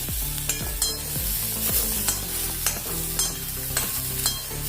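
Okra sizzles as it fries in hot oil, with repeated scraping stir strokes of a utensil against the pan at an uneven rhythm over a continuous close crackle and no voices.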